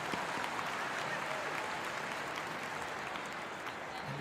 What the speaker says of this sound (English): the crowd with warm applause.